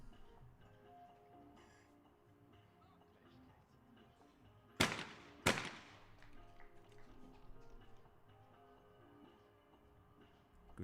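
Two sharp, loud shotgun blasts ring out about half a second apart in a women's team skeet final at an outdoor range, a quick double against a quiet, windy background with faint commentary.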